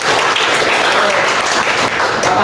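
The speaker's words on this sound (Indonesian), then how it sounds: "Tepuk tangan semuanya." Students applaud together in a classroom during an Islamic cultural history lesson. The clapping is dense, steady and loud throughout, with faint voices mixed in.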